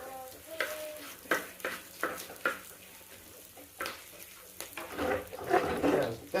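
Masala for a Kerala-style fish head curry frying in a pan, with repeated spoon scrapes and stirs over a steady sizzle, close and moderately loud, growing busier toward the end.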